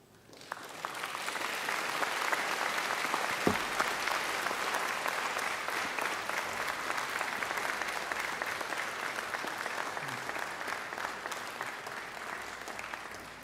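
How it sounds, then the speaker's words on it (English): Sustained applause from a large crowd at a graduation ceremony, steady and enthusiastic, filling the whole stretch with no speech over it. "give them a mighty round of applause"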